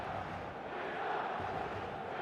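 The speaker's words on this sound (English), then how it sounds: "There's a real expectant buzz in the stadium" Steady stadium crowd buzz in a football video game, a dense, continuous roar of many voices at an even level, heard alone.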